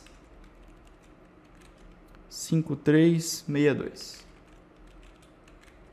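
Light clicking of a code being typed on a computer keyboard stays faint in the background, while a voice speaks briefly over it.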